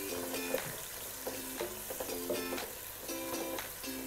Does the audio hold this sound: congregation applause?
no